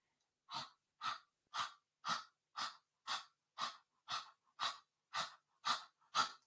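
Exaggerated, forceful breaths during a yoga session: twelve sharp, evenly spaced exhalations, each about half a second apart, loud and close with no talking.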